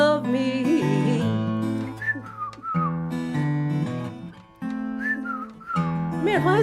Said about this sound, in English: why is whistling so hard?